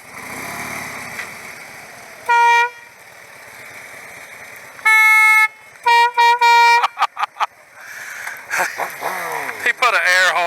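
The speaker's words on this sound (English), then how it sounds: "He put an air horn on his bike." An air horn fitted to a GSXR 1000 motorcycle blasts in several loud, sharp honks: one short toot, a longer blast, then a rapid burst of quick toots, with engine noise rumbling underneath.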